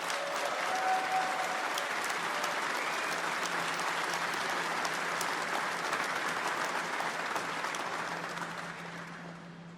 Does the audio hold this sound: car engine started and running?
no